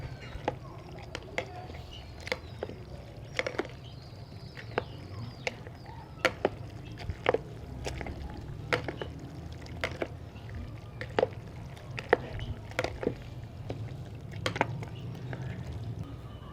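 Yogurt being stirred for dahi bhallay, a spoon or whisk working through it in a bowl and making steady, repeated sharp clicks and soft wet squelches over a low background hum, with no clear talk.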